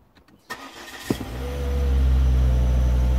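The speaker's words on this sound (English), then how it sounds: "Then I start the car." A Volvo car engine cranks after a few soft clicks, catches with a sharp crank and then settles into a steadily swelling, close, low idle rumble.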